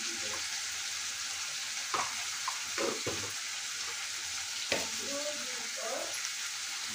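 Tomatoes and chili powder sizzle and fry in a pan for egg curry, a soft steady crackle with a few light clinks and stirring scrapes scattered through, quiet and close.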